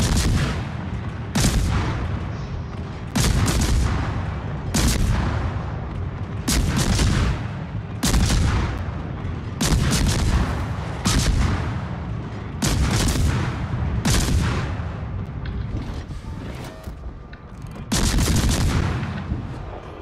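Tank cannon fire in a video game: heavy, booming shots repeat at a steady pace of roughly one every second or two, each a loud, close blast with a short decay, and no talking over them.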